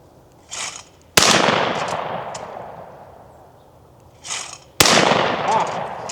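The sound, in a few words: Franchi 48AL shotgun firing and cycling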